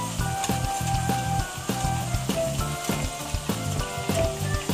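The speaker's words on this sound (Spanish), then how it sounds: "Y las patatas están friéndose y ya están listas, ya están en su punto. Las hice en la cocot, que es de hierro" Potatoes frying in a cast-iron cocotte give a steady crackling sizzle with rapid popping bursts, close and moderately loud, no voices over it.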